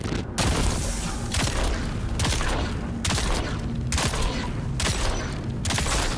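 Rapid bursts of Regis Snubnose gunfire in Dune Awakening, loud, dense shots in several volleys separated by short pauses, close up, with no talk.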